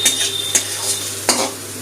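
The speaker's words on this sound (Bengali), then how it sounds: "পেঁয়াজটা লাল করে ভেজে নিয়েছি, মশমশা করে ভাজা গেছে" Onions frying crisp and red for a jackfruit-seed mash, sizzling steadily in a pan while a spoon scrapes and stirs in a few distinct strokes; no voices.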